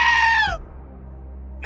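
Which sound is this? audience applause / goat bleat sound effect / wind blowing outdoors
goat bleat sound effect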